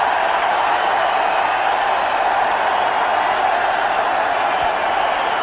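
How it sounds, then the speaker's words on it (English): Cricket crowd roaring after MS Dhoni's straight drive for four, a dense, sustained wash of distant cheering that stays level with no individual voices standing out. "Brilliant batting from msdhoni. Crowds have come alive."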